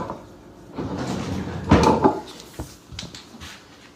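Someone opens a drawer looking for a lighter, giving a close wooden slide and rattle with a louder bump in the middle, followed by a few light knocks.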